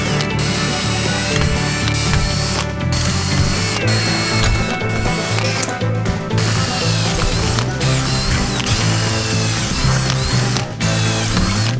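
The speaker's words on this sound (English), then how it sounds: "Let's drill these holes." A drill bores through metal motorcycle bracket stock lubricated with WD-40, giving a continuous loud, close grinding whine with shifting squeals and rattles that carries on without a break.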